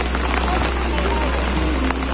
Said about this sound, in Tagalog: But, sadly, it's raining.